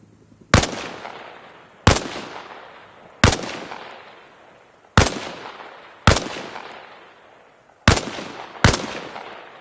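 Rifle shots ring out one at a time on a video game shooting range, seven sharp, loud cracks at steady intervals of roughly a second and a half, each followed by a decaying echo, with the last two fired close together.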